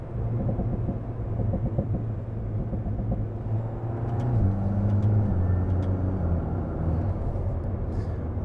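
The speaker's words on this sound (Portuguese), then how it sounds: "uma banda sonora deliciosa para acompanhar a nossa viagem, um escape fantástico" An Alpine A110 R with a 1.8 turbo engine mounted behind the cabin, its engine and exhaust droning steadily from inside the car, with the pitch rising and shifting midway through the run.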